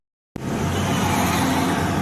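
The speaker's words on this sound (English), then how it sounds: "Here comes a fire truck" A fire truck, likely a water tanker, rolls past on a road during a Maui emergency, its engine rumble starting abruptly and holding loud and close with a broad roar.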